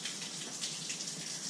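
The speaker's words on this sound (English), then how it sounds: "this sprayer, which when you bend it, it sprays. And when it's straight, it stops." Hose sprayer hissing steadily as water flushes the water jacket of a Suzuki 250 outboard, a continuous close broadband spray with no talk.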